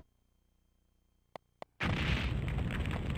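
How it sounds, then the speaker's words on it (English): A napalm bomb explodes in the video game Silent Bomber, a sudden loud blast that follows two short pops and then roars on as a dense, sustained burst filling the rest of the moment. "Using this in conjunction with your bombs will result in more powerful and deadly explosions"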